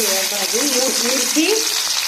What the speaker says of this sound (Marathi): कुरकुर वाजेपर्यंत मिरची छान अशी भाजून घ्यायची